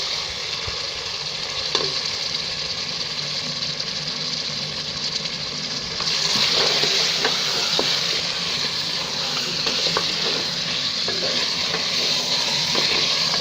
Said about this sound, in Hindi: पंद्रह से 20 मिनट अच्छी तरीके से भून लें। पानी डालकर भूनना है।